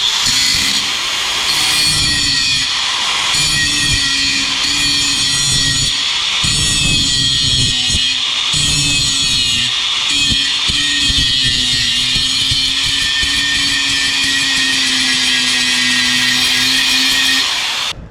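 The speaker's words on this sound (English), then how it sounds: "I did grind everything off" Loud, continuous power grinding on car bodywork, smoothing bumps before paint on an FRS with an LS swap, with a steady harsh whine and gritty scraping and brief dips in pressure.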